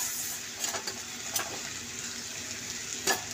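Fried potatoes mixed into spice paste in a pan for doi kochu, a low, quiet sizzle with a few soft scraping strokes of the spoon at intervals.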